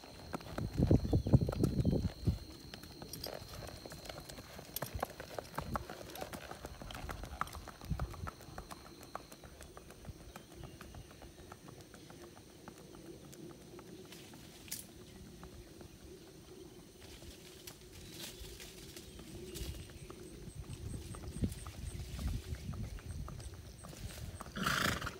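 A ridden horse in an English saddle walks with a steady, soft clip-clop of hooves close by, continuing in an even rhythm throughout with light background noise.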